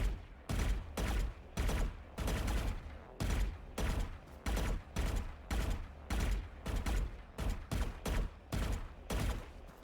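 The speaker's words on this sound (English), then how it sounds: "they're shooting too quickly between bursts" Rapid bursts of gunfire in a shooting video game, about a dozen short volleys in quick, even succession with brief pauses between them, loud and close with no talking.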